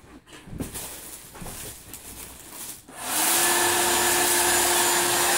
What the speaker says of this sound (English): Now, what I'm going to do is take the blow dryer